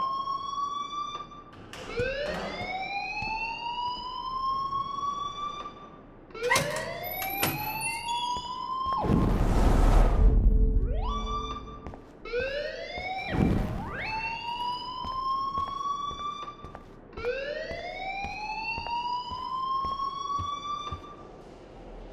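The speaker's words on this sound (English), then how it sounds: "please turn off that alarm since that's your job" An alarm in the video game Life Is Strange wails in loud, repeated rising sweeps, broken by two harsher noisy bursts midway before the cycling tone resumes.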